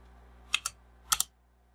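Two quick pairs of crisp computer keyboard keystrokes, close and clear, against a faint steady hum with no talking.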